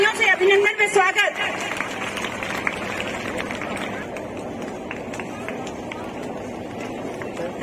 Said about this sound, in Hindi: ऐसे दानी व्यक्ति के लिए तालियों में कमी नहीं होनी चाहिए, जोरदार तालियों से अभिनंदन में स्वागत।